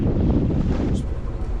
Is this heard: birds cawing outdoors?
no